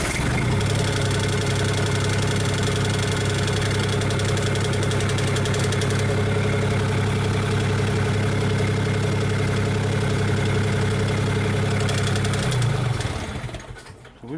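A Cummins diesel swapped into a Komatsu PC40 excavator idles steadily and loud with a deep, even knocking rumble, running alone for about thirteen seconds before it fades near the end.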